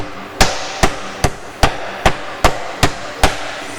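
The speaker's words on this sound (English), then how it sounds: "So with your trusty old mallet, don't use the ripped, ridgy part, use the flat end." Flat face of a meat mallet striking butterflied pork on a board, nine evenly spaced, firm thuds about half a second apart, close and clear with no talking.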